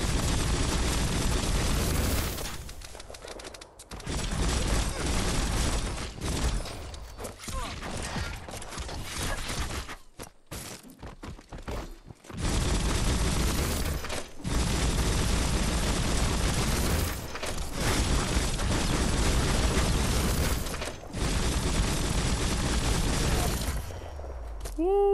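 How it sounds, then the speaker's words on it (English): Sustained bursts of machine gun fire in the action game Biomutant during a village raid, loud and dense with brief pauses, mixed with booms, explosions and mechanical game effects. "Yeah, this gun is nuts. Machine gun is nice."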